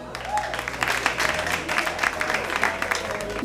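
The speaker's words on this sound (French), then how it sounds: "On applaudit Olivia" An audience applauds Olivia after she sings a song on a television singing show, with steady clapping from a crowd and a low hum running beneath it.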